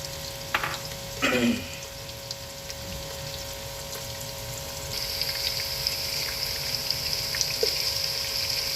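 Chopped onions fry in hot oil for pulao, a steady close sizzle that grows brighter and denser partway through, with a couple of brief clinks and stirring sounds early on.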